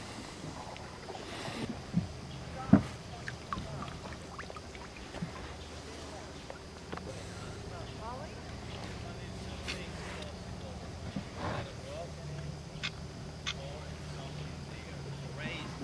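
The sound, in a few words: boat motor running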